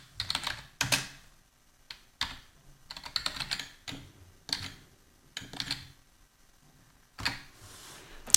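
PHP code typed on a computer keyboard, bursts of rapid close key clicks separated by short pauses, quiet with no talk.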